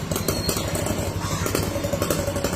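A motorcycle taxi engine runs steadily nearby with a rough, throbbing rumble and some mechanical clatter, no talking over it.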